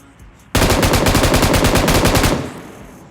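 Rapid automatic gunfire in PUBG Mobile, coming from a squad house rooftop: a loud, close burst of evenly spaced shots lasting about two seconds before it tails off.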